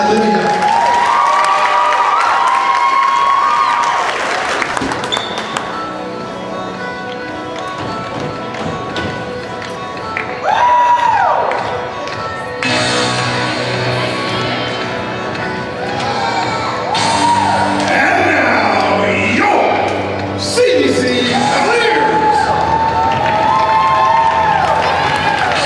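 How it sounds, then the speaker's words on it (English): A gym audience at a 2016 high school volleyball senior night claps and cheers, with bursts of shrill shouts and whoops rising and falling over sustained applause throughout. "How about one final round of applause for Vanessa and Alyvia?"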